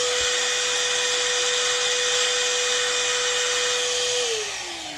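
A Fujitek FT VC2200 cordless vacuum cleaner runs at its maximum setting with a steady, loud high-pitched motor whine and airy hiss, its pitch dropping as it begins to wind down at the very end.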